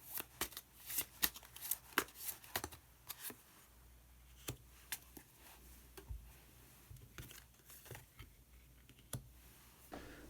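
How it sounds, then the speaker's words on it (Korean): Tarot cards are shuffled and a hidden card is drawn, giving a string of crisp, close card snaps and riffling flicks, dense at first and then more spaced out, with no talking. "히든 카드를 한 장 더 뽑아보도록 하겠습니다"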